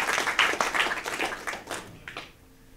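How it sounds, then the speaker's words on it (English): Audience applause at a developer meetup: a small group claps in quick, uneven bursts that taper off and fade out near the end, fairly quiet overall. "Big round of applause for them."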